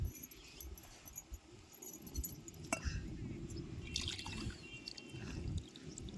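Water is poured over a stone grinding slab in a home kitchen to wash it, with quiet, irregular splashes and drips and a faint clink now and then.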